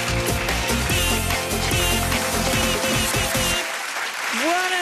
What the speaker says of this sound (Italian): l'applauso lo faccio da sola